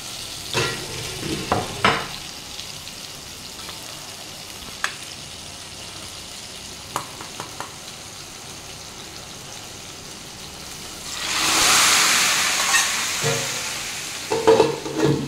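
Fried fish drops into a pot of sambar, where a loud sizzling burst flares up partway through after scattered clanks and stirring noises, with no voices.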